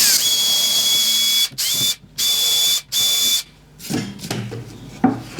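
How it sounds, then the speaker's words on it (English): A power drill bores through an MDF plate using 3D-printed guide holes, sounding in several loud, grinding bursts separated by short pauses, then a rougher, stuttering break-through at the end. "Now with these 3D printed holes in here, I've just got to drill through the MDF plate."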